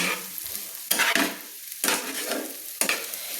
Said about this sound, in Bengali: বন্ধুরা আমার সজনে ফুল আর আলু একসঙ্গে কিন্তু ভাজা হয়ে এসছে